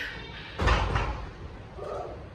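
Barn doors on a goat milking stand shed bang once in gusty wind, a single near thud and rattle followed by a softer knock, with windy background noise.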